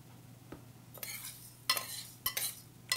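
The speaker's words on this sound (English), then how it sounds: "So I'm going to stir this." Rice being stirred in oil in a pot: soft scraping and a few light clinks of a utensil against metal, quiet and intermittent, with a faint steady hum underneath and no talk.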